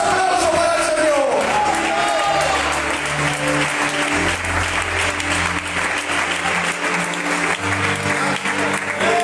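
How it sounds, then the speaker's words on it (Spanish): A church congregation applauds loudly and continuously, with shouts and whoops rising from the crowd and a musical tone sounding underneath. "Fuertes aplausos para el Señor."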